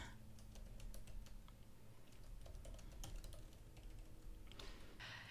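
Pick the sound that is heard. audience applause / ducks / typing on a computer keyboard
typing on a computer keyboard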